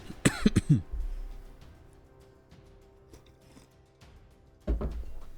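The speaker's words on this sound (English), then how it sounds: "This cough is pretty annoying." A burst of several harsh coughs up close, followed by quiet shuffling, then another single sharp cough near the end.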